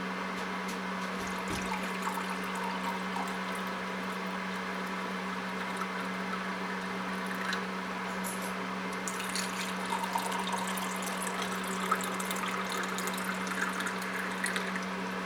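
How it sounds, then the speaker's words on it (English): Filtered water runs steadily into jars of tomato seeds, a continuous close trickle and splash under a constant low hum, with no voices. "I'm just going to put some filtered water on them"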